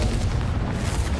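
A Confringo explosive spell detonates in Hogwarts Legacy, a short, loud, broadband blast with a rumbling low end that fills the whole moment.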